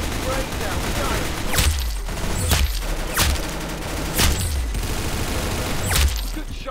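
Gunfire in the Roblox game Arsenal: loud, rapid bursts of shots with several sharp cracks spaced about a second apart over a constant busy game din, with people talking over it.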